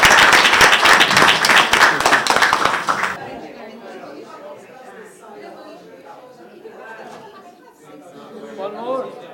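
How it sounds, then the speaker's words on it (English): An audience claps loudly at a UAE–World Bank–IRENA panel on SDG global councils, dense applause for about three seconds that gives way to murmured chatter and talking in the room. "give yourself a clap"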